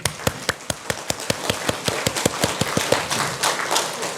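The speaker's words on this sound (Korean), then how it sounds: "아시겠고 믿어지는 분 박수" A church congregation at a Bible lecture breaks into steady applause, a run of sharp, evenly spaced claps that grows denser and blurs into a fuller wash of clapping toward the end, heard at a moderate distance with no talking.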